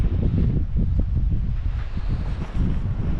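Steady wind buffeting the microphone outdoors at a vanlife camp in Portugal, a continuous loud low roar with gusty rumbling throughout and no talk.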